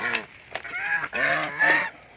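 Geese honk loudly and close in a farmyard flock, several harsh nasal calls in quick succession over about two seconds, with no talking.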